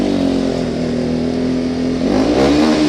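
An RS motorcycle revs hard on a bridge, its engine note climbing loud and close to the microphone as it accelerates, with no talking.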